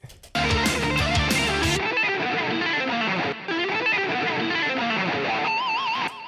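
A heavily distorted electric guitar plays a thick, saturated riff, loud and continuous, with a wavering effected tone toward the end.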